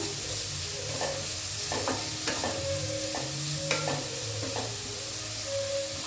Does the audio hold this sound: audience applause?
no